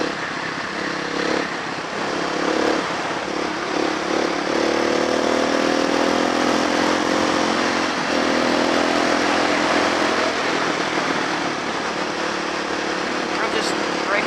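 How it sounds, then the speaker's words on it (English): A sport motorcycle engine being broken in, a steady loud drone with slowly rising and falling pitch as it runs continuously at moderate revs, close and unbroken throughout. "I'm just breaking in my engine."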